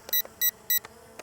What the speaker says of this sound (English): Let it beep, beep, beep.